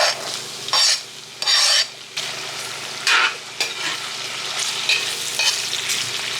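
Chopped onions and garlic sizzle in a hot pan while being stirred, with steady frying hiss broken by several louder bursts of scraping and tossing, close and without speech.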